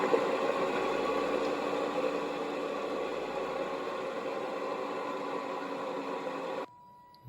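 Honda Transalp motorcycle engine on an ignition test rig tries to accelerate, a steady whirring mechanical drone with fine buzzing that holds evenly, then cuts off abruptly near the end.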